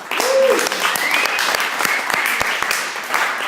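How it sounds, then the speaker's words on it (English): Audience applause at a Tuesday morning gathering, dense clapping filling the room for a few seconds, with a brief voice or whistle-like tone rising above the crowd. "give yourselves a round of applause for showing up"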